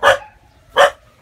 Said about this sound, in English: Oh, good guard dog, Roxy.